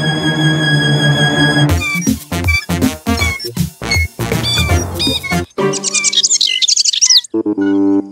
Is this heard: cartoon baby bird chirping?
yes